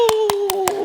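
Four sharp hand claps in an even rhythm, close and loud, over a sustained tone in the background.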